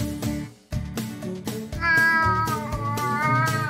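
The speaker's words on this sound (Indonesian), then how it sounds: "Seperti itulah suara kucing." A few short cat meows are heard close up, set against bouncy children's music in a cartoon-like setting.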